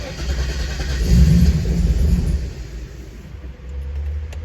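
A 1988 Holden VL Turbo Berlina running on straight E85 fires up from cold, a low rumbling engine that swells briefly, then settles into a rough, uneven idle close by.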